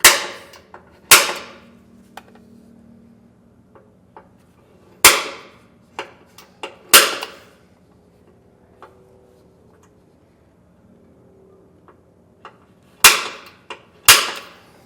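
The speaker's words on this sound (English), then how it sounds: "use a center punch so that we can mark it out to drill" Sharp metallic strikes ring out one at a time at irregular intervals, a hammer hitting a center punch to mark a drill hole, with quiet handling clicks between.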